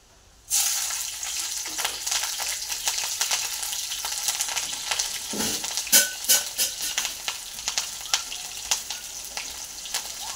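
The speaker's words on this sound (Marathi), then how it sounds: "तर हे तेलामध्ये जरा वाफलू द्यायचे" Sliced potatoes and chilies hit hot oil in a pan and sizzle loudly and steadily, with occasional scrapes and stirring clatter over the continuous frying hiss.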